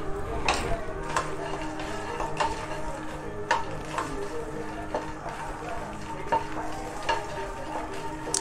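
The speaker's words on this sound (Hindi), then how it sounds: "घी गर्म हो गई है, इसमें मखाना हमने डाल दिया है फ्राई करने के लिए।" Makhana (fox nuts) fry in hot ghee in a pan for dal makhani, a steady soft sizzle broken by frequent sharp ticks and scrapes of stirring, close and continuous.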